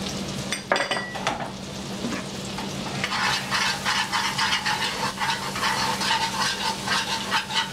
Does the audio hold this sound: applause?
no